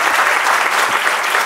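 An audience bursts into steady, dense applause for a science centre's staff and students, a loud continuous wash of many hands clapping close by with no voices over it.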